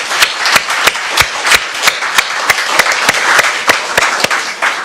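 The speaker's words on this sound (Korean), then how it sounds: "격려의 박수 한번 쳐드릴까요?" A church congregation applauds the volunteers who prepare the fellowship meal, with many sharp individual claps standing out from a steady round of clapping that lasts the whole time, close and lively, with no talking.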